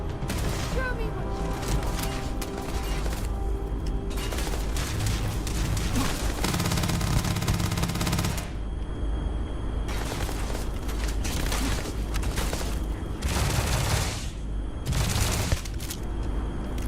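Continuous weapon fire in the video game Starfield, loud dense bursts with booming impacts layered over game noise, while a player talks throughout.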